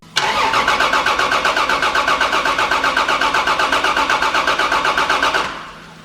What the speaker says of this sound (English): put direct power to the starter motor, and hopefully we hear it one over.